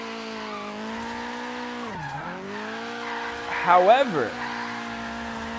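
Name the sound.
Nissan 240sx drifting with tire squeal, video game Forza Horizon 3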